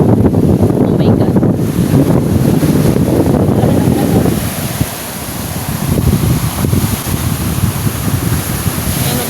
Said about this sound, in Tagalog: Oh, ang laki ng alon.